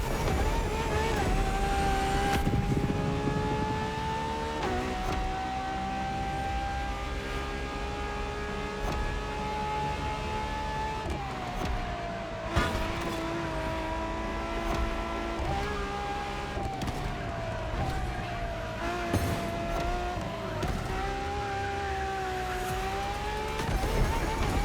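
A Ferrari LaFerrari hybrid V12 with F1-style kinetic energy recovery is driven hard in The Crew Motorfest on Hawaiian roads. The engine wails loudly and continuously through repeated upshifts, with occasional tire squeals and no talking.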